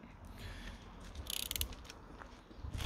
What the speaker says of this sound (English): And I've got an Allen key at the back here just as I tighten this on